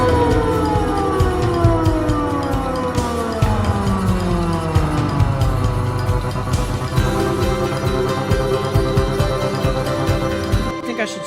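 A Moog synthesizer run through delay, producing overlapping tones that sweep slowly up and down like an air raid siren, dense and sustained with layered echoing repeats.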